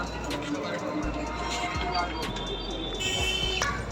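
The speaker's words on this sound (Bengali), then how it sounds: "দেখুন ভালো কোয়ালিটির পায়রা রয়েছে" Pigeons coo at a crowded outdoor bird market in Chandipur, West Bengal. Low cooing and scattered chirps sit beneath steady nearby talk and general market bustle.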